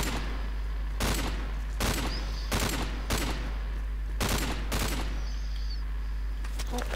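Rapid bursts of gunfire from a shooter video game crack out in repeated volleys, loud and close, with brief pauses between clusters of shots and a steady low background hum.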